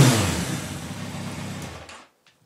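A car engine revs once, loud and close, then winds down and cuts off, leaving near silence with a faint click at the end.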